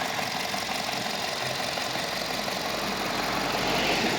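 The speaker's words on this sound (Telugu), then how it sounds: "very smooth engine" A 2012 Skoda Rapid with a pure petrol engine idles steadily, a smooth, even mid-low hum holding close and constant throughout, with no talking.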